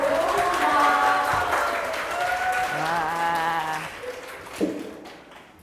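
Audience applause rises in a hall during a talk-concert event, a dense wash of clapping with a voice speaking over it, then thinning out toward the end.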